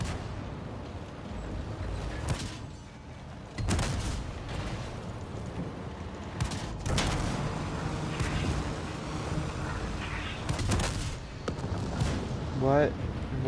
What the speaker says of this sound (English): Aim at an enemy vehicle and fire.